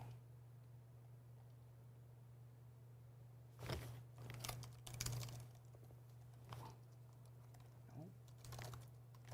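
Someone taps on a computer keyboard during a hobby studio stream in scattered, faint bursts of clicks over a steady low hum, with quiet talk in the background.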